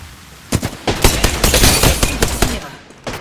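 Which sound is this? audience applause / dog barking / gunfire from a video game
gunfire from a video game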